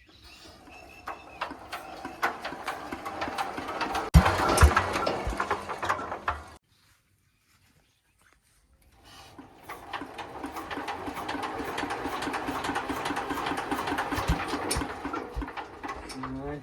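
A tractor engine clatters with a rapid mechanical rattle, cuts out into near silence for a couple of seconds, then starts again and settles into a steady, busy running chatter, with voices talking alongside.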